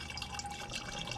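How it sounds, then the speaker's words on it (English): Pest control concentrate being poured into a garden sprayer, a faint close trickle of liquid running steadily for about a second. "I'm only going to pour a little bit in here"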